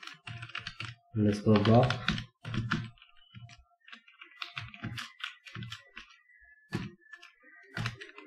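Keys clacking in quick bursts as code is typed on a computer keyboard, close and fairly soft, running beneath a voice talking through the steps.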